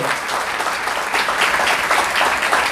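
Audience applause fills a hall at a Bharthwal family foundation-day event in Garhwal Bhawan, honouring a Padma Shri awardee. Dense, steady clapping holds at a constant level throughout and is heard alone.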